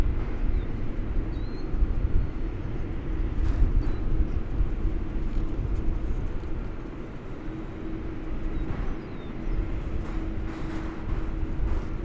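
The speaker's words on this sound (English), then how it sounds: "there's the Japan Airlines 777 that came in from Haneda Airport in Tokyo" A Japan Airlines Boeing 777 at DFW Airport produces a steady, distant jet roar, a broad low rumble that holds constant outdoors with no voices over it.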